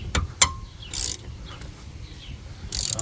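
A ratchet wrench works on the 13 mm brake caliper bolts of a Dodge Charger with the wheel off, giving sharp metallic clicks and brief ratcheting bursts in an irregular rhythm, close and fairly loud.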